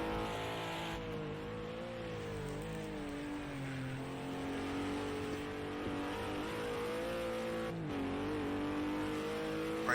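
A GT4 race car laps Donington in a racing game, its engine droning steadily and rising and falling through gear changes on the straight, loud and close throughout.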